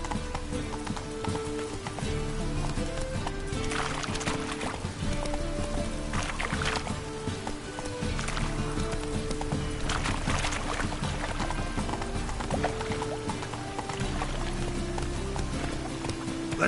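A horse gallops in The Witcher 3, its steady rhythmic hoofbeats running throughout, mixed into dense game music and ambience.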